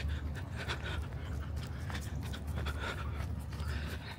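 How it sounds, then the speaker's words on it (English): A dog pants steadily and rapidly up close over a low, constant rumble of ambient noise, the breathing continuing in quick rhythmic bursts throughout. "Oh, there's a dog here."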